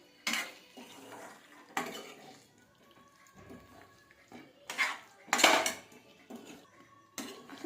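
A small spoon clatters and scrapes against a pot while mixing chicken with masala for chicken sukka, sounding in repeated bursts of metallic knocks with quieter scraping in between, close by.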